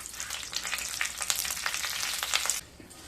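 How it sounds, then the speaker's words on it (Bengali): One dried chilli, a bay leaf and a spoonful of panch phoron fry in mustard oil, crackling and sizzling steadily close by, then the sizzle drops away near the end; no voices. "তেলের মধ্যে দিয়ে দেব একটা শুকনো লঙ্কা, একটা তেজপাতা, আর দিয়ে দেব 1 চামচ 5 ফোড়ন।"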